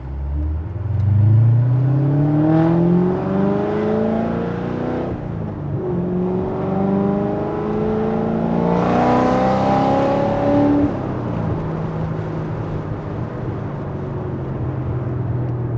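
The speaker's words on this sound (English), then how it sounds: "we got up to a good 60 miles an hour there" A 2017 Corvette Z06 accelerates hard on the road, its engine rising in pitch through two strong pulls with a gear change between, loud and close from inside, then easing to a steady cruise.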